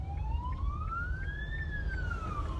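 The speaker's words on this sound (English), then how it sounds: "There's an ambulance." An ambulance siren wails past, its tone sweeping steadily upward and then sliding back down, loud over a constant low traffic rumble, with no talking.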